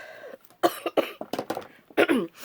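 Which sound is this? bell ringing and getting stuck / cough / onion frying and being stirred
cough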